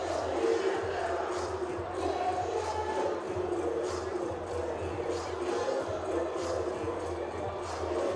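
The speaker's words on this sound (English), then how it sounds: "Full capacity crowd waiting with bated breath." A full-capacity crowd at a Savannah ballpark exhibition game murmurs and chatters while waiting on an umpire's review, a dense, steady roar of many voices with scattered louder shouts.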